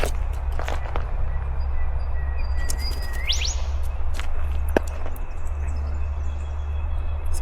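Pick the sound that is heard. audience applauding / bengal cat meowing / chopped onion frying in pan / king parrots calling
king parrots calling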